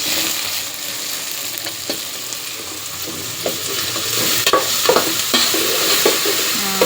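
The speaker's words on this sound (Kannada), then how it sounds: "ಈ ಥರ ಹಿಂಗೆ ಫುಲ್ ಕಂಪ್ಲೀಟಾಗಿ ಮಿಕ್ಸ್ ಮಾಡ್ಕೋಬೇಕು ಹಂಗಂದ್ರೆ ಚಲೋ ಫ್ರೈ ಆಗಿರ್ತದೆ" Whole spices such as pepper, cinnamon and cumin frying in a pan for North Karnataka style pulao while being stirred, with a steady sizzle and scraping spoon strokes, loud and close, no voices.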